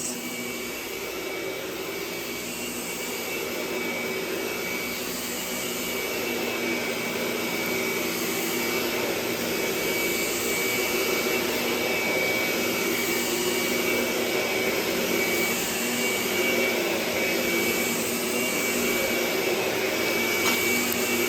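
A Lindhaus Healthcare Pro EcoForce vacuum cleaner runs on an old carpet area rug, its motor droning in a continuous high whine that grows slightly louder and holds steady throughout, with no voices.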